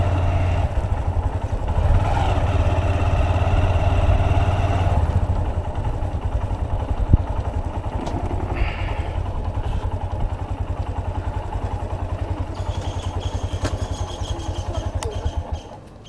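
A motorcycle engine runs steadily while riding toward Haripur sea beach and Lalganj, with a louder, fuller stretch early on before settling into an even mid-level drone that continues to the end, with no talk.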